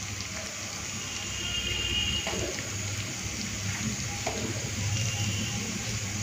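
Ginger, garlic, chilli, tomato and bay leaves fry in a pan in a home kitchen, producing a continuous moderate sizzle with a few scraping stirs, close and steady throughout.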